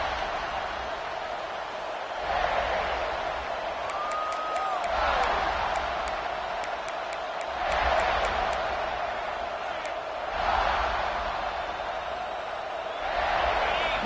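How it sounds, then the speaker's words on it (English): A college football stadium crowd roars in broad swelling waves, loud and sustained, with cheers rising and falling every few seconds and sharp whistles or claps ticking through the din, heard early in a game in a tough environment for visitors. "Listen to the crowd energy here in the early going."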